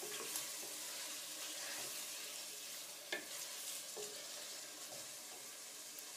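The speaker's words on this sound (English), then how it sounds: "Stir it up real well. You want to make sure all the flavors blend together." Beef youvetsi frying and sizzling in a pot while being stirred, with a steady bright hiss and a few soft scraping knocks from the spoon, close up and with no talking.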